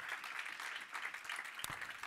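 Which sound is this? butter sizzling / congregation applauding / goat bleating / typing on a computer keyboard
congregation applauding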